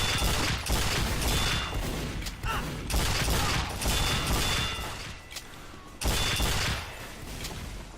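Rapid gunfire and mechanical weapon sounds from Team Fortress 2 on the Sawmill King of the Hill map, shooting at a Scout; dense, loud bursts fill the stretch with brief dips between volleys.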